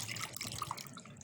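Fenugreek liquid trickles through a strainer and funnel in a steady, close pour with faint dripping, no voices.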